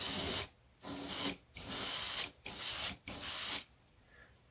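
Five short bursts of aerosol spray paint hissing onto a Blackburn Monoplane model in a steady rhythm, each lasting about half a second, close up, with a quiet pause at the end.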